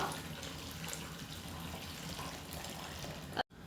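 Hot water pours steadily into a pot of potatoes, a continuous close splashing rush that runs for about three and a half seconds and then cuts off abruptly.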